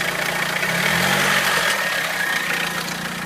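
A Nissan GA16DE engine fitted with an SR20DE throttle body idles nearby, a steady low engine rumble under a continuous airy intake hiss that holds even throughout.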